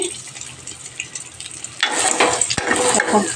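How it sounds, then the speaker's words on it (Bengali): Thick eggplant slices fry in a pan, a loud steady sizzle starting partway through after a quieter stretch of kitchen noise. "এই দেখো বেগুন ভাজা করছি"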